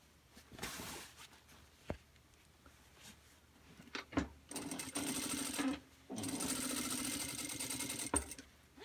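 A sewing machine stitches a fabric bag in short bursts, then two longer steady runs of whirring motor and needle. Faint handling clicks and thumps fall between the runs, close and fairly quiet.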